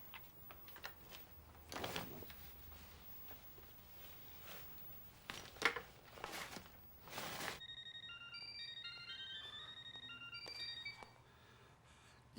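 A telephone rings with a bright, repeating electronic ringtone melody in a tense crime-heist film scene. Earlier clattering and rustling noises give way to the trilling tones, which stay fairly faint.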